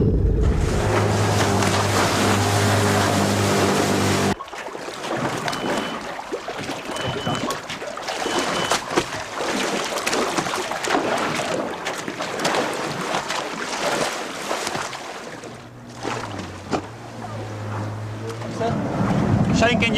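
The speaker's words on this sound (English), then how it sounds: "can you cut the engines for a moment?" Boat engines drone steadily at sea while tracking a tiger shark, with low tonal hum, wind buffeting the microphone and water noise; the engine tone drops out briefly midway and returns near the end.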